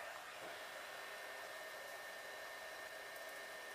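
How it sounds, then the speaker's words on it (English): A lightweight nano hair dryer blows steadily in a salon, producing a constant airy whoosh that stays even throughout and sounds alone without any talking. "If any of you have worked with a nano dryer before, you'll know how lightweight it is."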